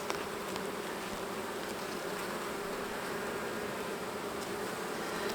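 Honeybees from an opened hive being split and cleaned give a steady, dense buzz, close and continuous throughout with no talking.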